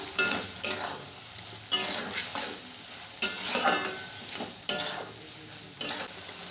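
Chili chicken gravy being stirred in a pan with a spoon, sizzling steadily as repeated scraping strokes come in bursts about every second, close and clear with no talking.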